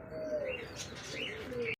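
Soft, repeated cooing of racing and fancy pigeons close by, with gentle chirpy calls overlapping for a couple of seconds.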